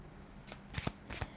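A deck of tarot cards is shuffled close up, with a few quick riffling bursts over a low background hiss and no talk.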